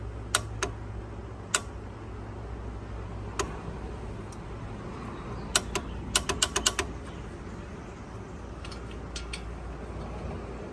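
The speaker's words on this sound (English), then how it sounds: "So I'm going to torque the strut bracket bolts, the two 21mm bolts, to 65 foot-pounds." Torque wrench tightening the two 21mm strut bracket bolts on a 2011 front-wheel-drive 3.6 litre Dodge Avenger, sharp metallic ticks and clicks over a low steady hum, with a quick cluster of clicks near the middle.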